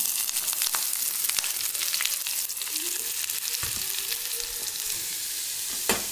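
Curry leaves and onions frying in a pan while preparing paneer curry: a steady close sizzle with stirring scrapes and a sharper clatter near the end, no talking.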